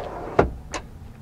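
The load and go cargo tray of a 2007 Dodge Nitro SLT slides out in two short scraping clunks, close by in a quiet interior.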